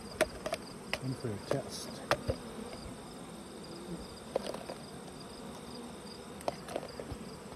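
Honey bees buzz in a steady drone, with sharp clicks and knocks from handling gear and an occasional brief voice nearby.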